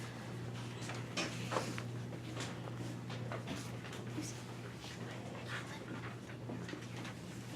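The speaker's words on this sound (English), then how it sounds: "I didn't know you had a dog." A dog panting and whimpering close by outdoors, near a house where leaves are being raked. The soft breathy panting is punctuated by small shuffles and faint knocks.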